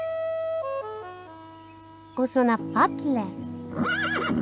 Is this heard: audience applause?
no